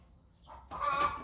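A hen clucking close by, a few soft, low clucks followed by a louder, sharper squawking cluck, alone and without talk.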